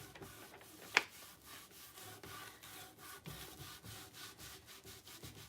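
Sandpaper rubbing back and forth across a decoupage project in rhythmic, close scratchy strokes, with one sharp knock near the start and no talk.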